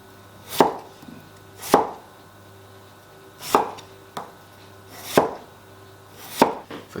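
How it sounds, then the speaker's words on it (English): A knife chops vegetables into bite-sized chunks for a Northeastern Chinese mixed stew, each cut landing as a crisp thud on the board, five or six in a slow irregular rhythm with no talking. "Just cut it into chunks, bite-sized chunks."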